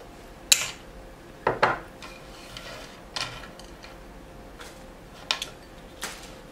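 Greenery stems for a flower arrangement are trimmed to equal length, giving about six crisp, separate cuts spaced a second or so apart against a quiet room.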